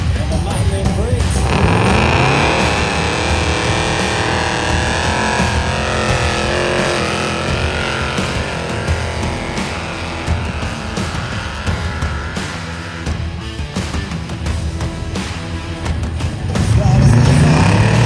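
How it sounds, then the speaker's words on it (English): A 1968 Cadillac and a Chevy in the pits of a hillbilly demolition derby in Edson, Alberta, engines roaring and revving loudly and up close, with a fresh surge at the end. "But that 1968 Cadillac against a Chevy as we blow through these pits."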